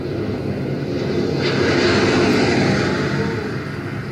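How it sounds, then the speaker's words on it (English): Loud, steady roar of jet engines from a landing aircraft passing overhead, a continuous low rumble with a faint rising whine. "Sorry, but those are jet engines."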